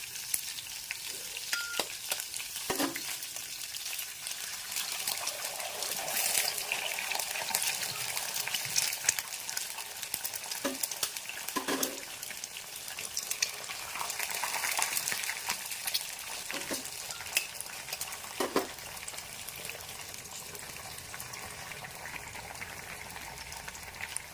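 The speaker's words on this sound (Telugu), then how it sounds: "ఇందులో ఇప్పుడు మూడు ఎగ్స్ పగలగొట్టి వేస్తాం" Three eggs cracked into a pan of hot chilli tempering for an egg garlic curry, a loud, steady frying sizzle with scattered scrapes and taps from a spatula throughout, heard up close without speech.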